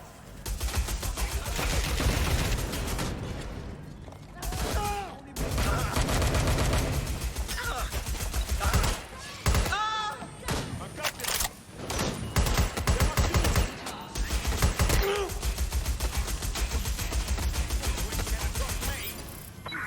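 Gunfire erupts throughout a Watch Dogs Legion firefight, loud bursts and rapid shots mixed with impacts, with characters shouting and talking over the shooting.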